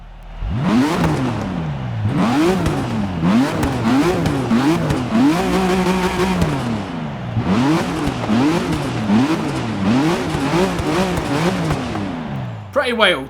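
A race car engine in the Forza Motorsport 6 video game revs repeatedly in rapid rising and falling sweeps, loud and close, like gear shifts cycling under hard acceleration.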